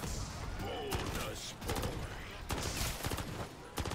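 Gunfire from a Renetti pistol fitted with the JAK Cutthroat kit in MW3 Zombies, heard as a series of sharp shots in quick bursts, some stacked close together, over a busy game background.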